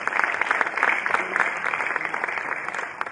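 A conference audience applauds a speaker, a steady patter of many hands at moderate distance that fades slightly toward the end.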